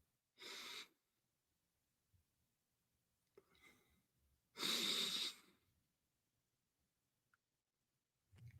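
A person sniffs hair gel up close, with a few short sharp inhalations and breaths separated by quiet pauses.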